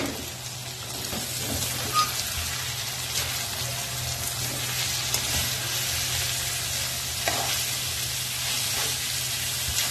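Flat beans stir-fry in a hot pan with oil, giving a dense, steady sizzle and crackle throughout, broken by occasional scrapes and clinks of the spatula.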